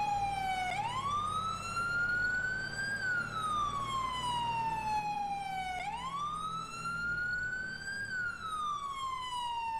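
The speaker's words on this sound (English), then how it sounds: "Sirens coming up." Emergency vehicle sirens wail in long rising and falling sweeps, two full cycles over a low road rumble, steady and fairly faint, as they come up on the scene.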